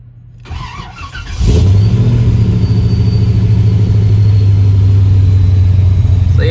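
A Procharged LS3 V8 cranks briefly and then catches, settling into a loud, deep, steady idle with a low rumbling drone close by.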